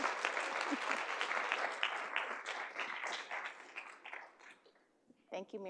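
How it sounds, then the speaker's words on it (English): Audience at a health sector leaders consortium applauding a speaker's introduction, steady dense clapping that gradually thins and fades, ending with a voice speaking briefly at the close. "Let's give a round of applause for Michelle."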